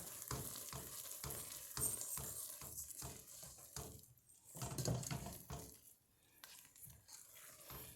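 Steady wet, sticky stirring and soft sizzle of marshmallows melting in a pot for Nutter Butter Rice Krispie treats, with rhythmic scrapes of a spoon against the pan continuing throughout, close and moderately loud, without speech.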